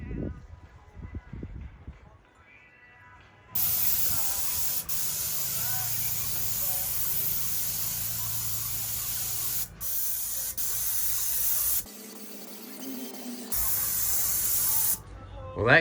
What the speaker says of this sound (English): Here comes the spray.